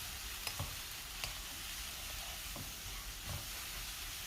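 Onions, green chilli and a spoonful of cumin sizzle steadily in a hot pan for a Sri Lankan beef puff filling, with a few soft scraping stirs recurring through a continuous frying hiss, fairly quiet and close.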